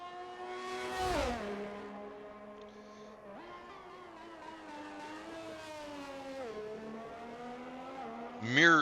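Race car engine in a racing video game on a hot lap at Bahrain, the tone rising and falling through gearshifts, with a brief tire squeal and louder surge near the end beneath continuous commentary.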